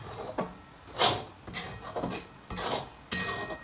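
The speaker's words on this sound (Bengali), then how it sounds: "এটাকে নাড়তে থাকতে হবে কেন যাতে নিচে না বসে যায়" Rice kheer simmering in milk in a pot is stirred with a utensil, giving several separate scraping knocks and clinks against the pot at an irregular pace, close and moderately loud, with no voices.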